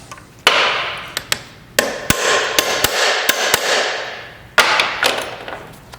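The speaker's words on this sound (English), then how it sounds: "So you hammer and a punch." Hammer blows on a punch against a motorcycle chain pin by the sprocket of a Suzuki GSXR600 ring out as sharp metallic taps, some single, some in quick runs, each followed by a short ringing decay, close and loud.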